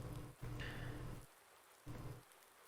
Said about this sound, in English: Apparently we've got rain again.